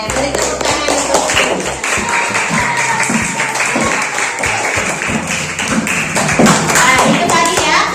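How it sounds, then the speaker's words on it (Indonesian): Applause and clapping from a group indoors, a sustained, fairly loud patter of hand claps with thumps mixed in, continuing for several seconds with voices faintly underneath. "beri tepuk tangan untuk"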